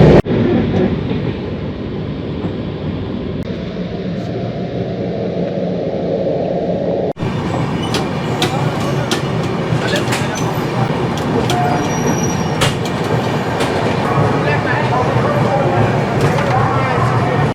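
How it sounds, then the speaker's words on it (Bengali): A train rolls along the rails arriving at Asansol with a steady rumble and occasional metallic squeals, loud and close, as people talk faintly in the background. "ট্রেন এসে পৌঁছালো আসানসোলে।"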